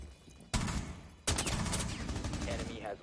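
Bursts of gunfire in a tactical shooter terrorist-hunt round, an MP7 and other weapons firing in two loud sustained volleys that start abruptly and run with dense rapid cracks and a faint voice underneath.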